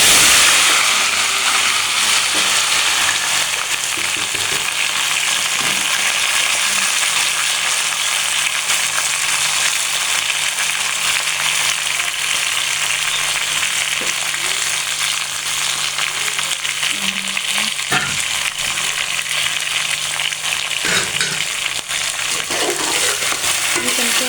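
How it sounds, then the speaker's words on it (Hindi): Taro root (arbi) drops into hot oil and fries with a loud, continuous, close hiss. Occasional clatters and stirring bumps sound over it, and no one speaks. "अब ये हमारा जो ऑयल है ये गर्म हो गया। अब हम इसके अंदर डालते हैं अरबी।"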